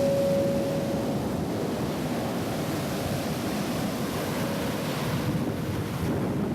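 Sea waves and wind, a continuous roar of surf with heavy wind buffeting the microphone, steady and loud throughout.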